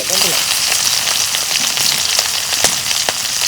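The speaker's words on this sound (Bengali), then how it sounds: "তেল গরম হচ্ছে এখন আমি মশলা দিয়ে দিম পিঁয়াজ আর কাঁচা মরিচ" Chopped onions and green chilies fry in hot oil for a cauliflower, new-potato and rohu fish curry, giving a steady, close, dense sizzle with scattered sharp crackles and pops throughout.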